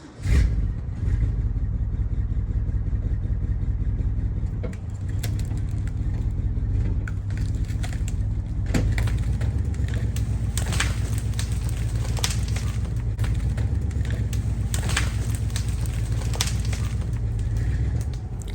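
An old Ford truck loaded with firewood strains to pull a huge log, its engine droning low and constant under scattered clatter and creaks, with occasional bird calls nearby.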